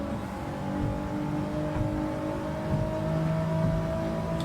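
Race car engine in Gran Turismo 7 holding a steady, buzzing high-rev drone with slight rises and falls, continuous and fairly prominent, with no speech.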